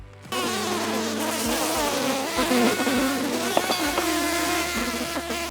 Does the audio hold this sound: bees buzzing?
yes